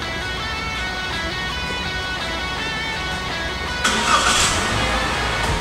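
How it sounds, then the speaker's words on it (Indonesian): Daihatsu Terios R 2018 engine starting from inside the car: a steady background hum, then a sudden crank and catch near the end followed by a louder settled idle, close and without talk. "mari kita nyalakan mobilnya"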